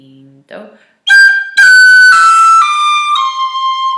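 A tin whistle plays a short run of bright high notes, some sharply articulated and others gliding smoothly into the next, preceded by a brief spoken voice.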